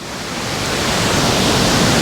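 Tegenungan waterfall in Bali, with crowded banks and muddy-looking water, roars as a dense, continuous rush of falling water that swells slightly louder, a steady broadband wash with no voices.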